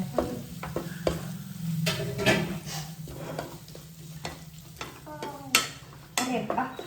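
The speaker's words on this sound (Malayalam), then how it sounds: "ചെമ്മീൻ കുട്ടന്മാരെ ഇട്ട് കൊടുക്കാം" Prawns frying in a pan, sizzling steadily as a utensil scrapes and stirs in irregular bursts, with clattering knocks throughout.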